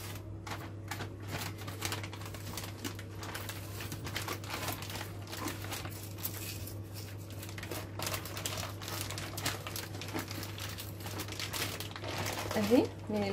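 A plastic bag crinkles and rustles as marinated whole chicken is pulled out of it before being roasted on a Pepsi bottle. The crackling is close and nearly continuous over a low steady hum, and a voice speaks.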